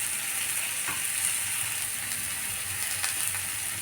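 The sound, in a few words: pointed gourd and potato frying with turmeric and chili powder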